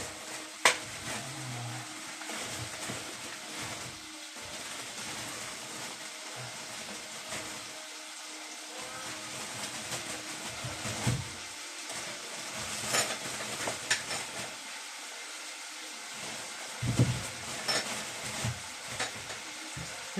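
Beef browning in a pan for a casserole, giving a soft, steady sizzle with occasional scrapes and knocks of stirring, fairly quiet throughout.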